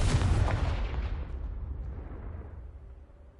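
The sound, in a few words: Confringo spell explosion in the video game Hogwarts Legacy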